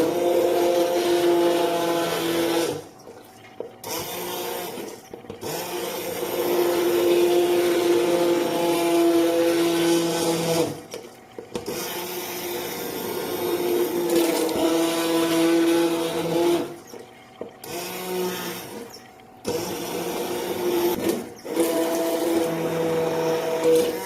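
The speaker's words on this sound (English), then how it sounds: "we're gonna take our nice hand blender over here, and we're just gonna blend" A hand blender whirs through a pot of homemade cream of vegetable soup in long steady bursts, its motor pitch shifting under load, broken by several short pauses between runs.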